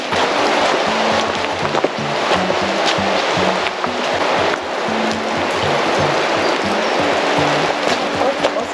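A Tasmanian stream runs steadily, a constant close rush of flowing water that fills the whole stretch with no break and no voices.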